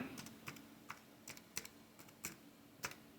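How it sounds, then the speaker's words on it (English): Keystrokes on a computer keyboard, typed one-handed, come as sparse, irregular clicks at close range, roughly ten taps spaced unevenly over a few seconds against a quiet background. "I'm typing with one hand here."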